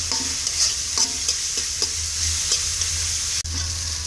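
Noodles cook in oil in a pan with a constant bright sizzle over a low hum, punctuated by regular light clicks of stirring and one abrupt knock.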